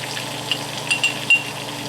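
Potatoes fry in butter in a pan with a steady soft sizzle, while salt is sprinkled over them, giving a few faint light ticks on top of the frying noise.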